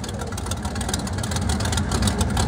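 A Chevrolet Camaro drag car roars steadily at full throttle on a drag strip launch, a loud, dense, unbroken engine blare filling the whole short stretch.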